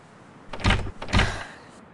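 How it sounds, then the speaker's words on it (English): A locked door being tried in the video game GTA IV gives two short rattling thumps about half a second apart, fairly close and clear, with no talk over them. "The door is locked."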